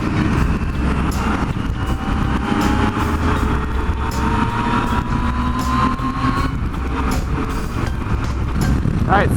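A motorcycle cruises on a highway during a long-distance endurance ride, with a steady droning engine and heavy wind roar close by and a faint rising whine underneath.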